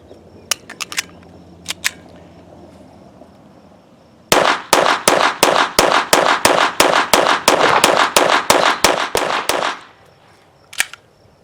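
A pistol loaded with Velocitor ammunition fires a rapid string of about fifteen sharp, loud shots in a steady rhythm. A few scattered handling clicks come before the string, and one last shot follows after a short pause.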